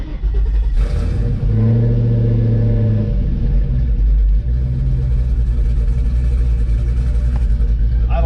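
A Chevelle's engine fires up on a dyno and settles into a loud, deep rumbling idle, with a few rising revs and steady low throb close by and no talk.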